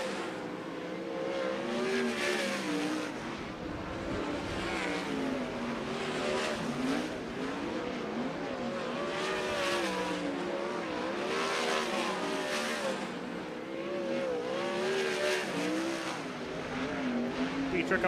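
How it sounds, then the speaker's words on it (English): Sprint cars running hot laps at a dirt oval speedway during a Sprint Speedweek event, engines roaring steadily and loudly throughout as cars circle, with pitch rising and falling as they pass. "The green flag out in your final group of hot laps"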